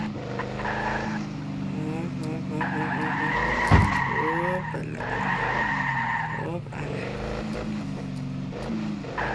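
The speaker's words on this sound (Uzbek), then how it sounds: "Shu mashina ichida drift qilyapman." A car drifts in the mobile game Car for Self, with tires squealing and skidding over a revving engine drone that runs steadily through the whole stretch, loud and close.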